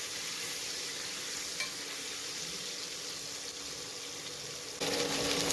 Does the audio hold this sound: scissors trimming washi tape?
no